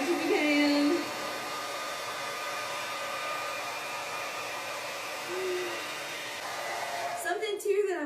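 A hair dryer blows steadily while drying the roots of wavy, curly hair, a continuous close whir running the whole time, with a brief shift and clatter near the end.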